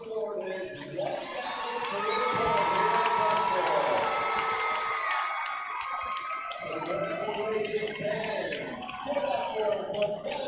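A high school boys basketball crowd at Red Lion versus Central York roars and cheers after a player's 1,000th career point, a loud sustained swell of voices that gradually tapers off.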